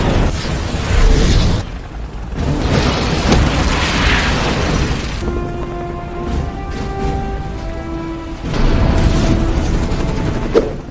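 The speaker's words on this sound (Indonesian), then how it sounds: "saat itu juga tangki tersebut meledak" Fuel tanks full of oil explode in an action movie scene with heavy booming blasts and roaring fire, loud and dense with rumbling debris, a quieter stretch with a steady tone, then another surge of blasts.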